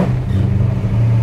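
Car engine with tuned Holley Sniper fuel injection, held in first gear, gives a brief loud rev with a strong low rumble, steady and close with no stumble or cutout.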